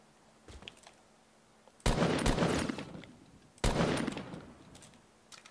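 Gunfire in the shooter game Fortnite: a few light shots, then two loud, heavy bursts of rapid fire about two seconds apart, each trailing off, with quiet gaps between.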